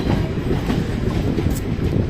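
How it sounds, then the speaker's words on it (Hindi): The Ranikhet Express pulls out of Pataudi Road railway station, a loud, steady rumble with rhythmic wheel clatter heard from on board. "तो अपना डिपार्चर हो चुका है finally Pataudi road railway station से।"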